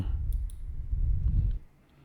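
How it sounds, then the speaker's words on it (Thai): A computer mouse gives two or three light, sharp clicks early on over a low background rumble, which then drops away. "ให้เราคลิกไปที่อัปโหลดโฟลเดอร์ คลิกตกลง"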